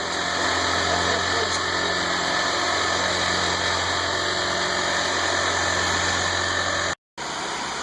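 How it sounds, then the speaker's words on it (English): Gas-operated concrete vibrator working over a freshly poured concrete slab, a steady close engine drone with constant buzzing vibration that runs unbroken, cutting out for a split second near the end before resuming. "they put that metal vibrator, or that gas operated vibrator on it to tamp it down and get it relatively smooth"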